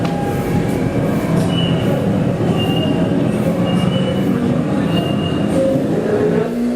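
A train rolls past on a Japanese railway, with a steady, loud rumble of wheels on track and repeated thin metallic squeals. The noise holds level from start to finish and no voices are heard.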